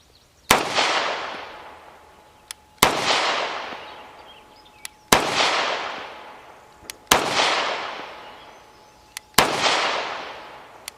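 Five sharp, loud pistol shots from an Alpha Foxtrot 1911 S15 Bob Gen 2 in 9mm, spaced about two seconds apart, each followed by a long reverberant ring on an outdoor range, with faint clicks between shots.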